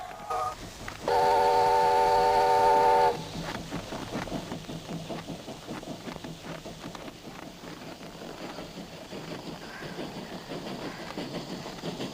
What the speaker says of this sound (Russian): поезд идет, поезд идет!